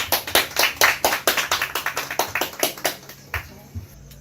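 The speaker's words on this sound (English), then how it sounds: "Everybody give them a round of applause" Audience clapping for dancers at a live Jamaican show, a dense burst of hand claps up close that thins out and fades after about three seconds.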